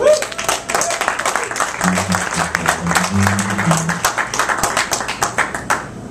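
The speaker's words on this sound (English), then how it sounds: "let's first give a round of applause to Tim Moon." Comedy show audience applauding, a dense patter of many hands clapping throughout, close and fairly loud, with a voice speaking briefly underneath in the middle.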